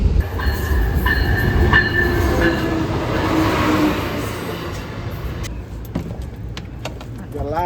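An Amtrak Lincoln Service train rumbles and clatters along as it approaches Joliet station in Illinois, with a steady low roar that settles into quieter clicks and knocks as it slows.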